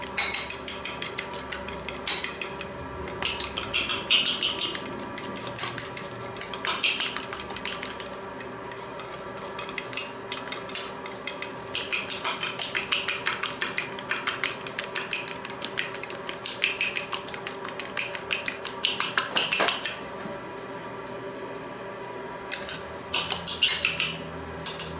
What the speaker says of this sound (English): Just mix that up with a fork.